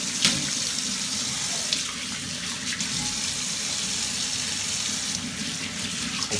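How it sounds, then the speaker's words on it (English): Tap water runs steadily into a sink while OSP shaving cream is rinsed off, a close, continuous splashing hiss with no talk. "Just going to rinse off and I'll conclude."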